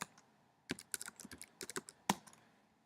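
Keys clatter on a computer keyboard in a quick, irregular burst of close, crisp taps after a brief pause, with no voices present.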